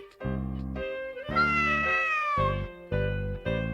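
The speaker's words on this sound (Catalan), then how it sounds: "Aquest gat que m'ha seguit fins a casa..." Cat meowing in an anime, four or five clear close meows with one longer drawn-out cry in the middle, loud and alone without talk.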